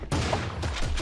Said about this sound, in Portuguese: Agora tem mais tiro.